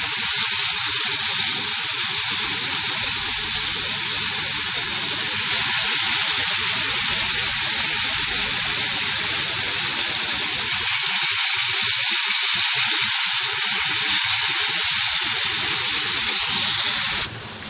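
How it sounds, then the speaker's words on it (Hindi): Thin chicken slices shallow fry in oil in a pan, a loud, dense, continuous sizzle close up with no talking, dropping off abruptly at the very end. "चिकन फ्राई हो रहा है।"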